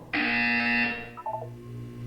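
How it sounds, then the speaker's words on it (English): A loud, harsh electronic buzzer in the Portal 2 video game sounds once for nearly a second, then fades into a few softer, lower tones. "When you hear the buzzer, look down at the floor."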